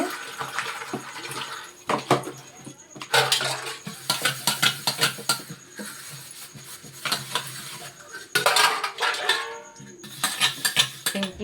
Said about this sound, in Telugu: ఇంకా మిగిలిన ఈ 2 గిన్నెలు కూడా కడిగేసుకుంటాను